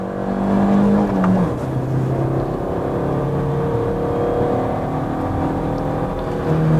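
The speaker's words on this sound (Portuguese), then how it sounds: "vou acelerar um pouquinho aqui na arrancada e vamos ver o que acontece" A Fiat Grand Siena 1.4 running on CNG accelerates hard from a standstill, its engine droning loud and close with rising revs and a gear change near the start, holding a steady strained roar throughout.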